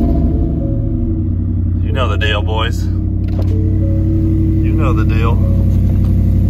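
Modified truck nicknamed Leroy 2.0, shown after the World Cup event, fires up and holds a loud, steady low rumble with slight revving, while someone talks over it.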